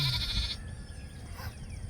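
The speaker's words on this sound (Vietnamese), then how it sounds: "một đàn dê" Goats bleat on a farm, one loud, close call at the start followed by softer bleats and rustling from the herd nearby.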